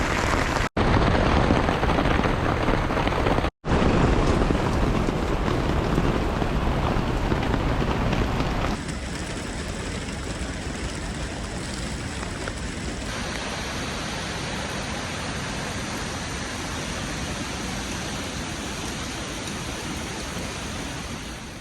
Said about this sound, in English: It rained all night. Got streams flowing through the tents. It's nailing.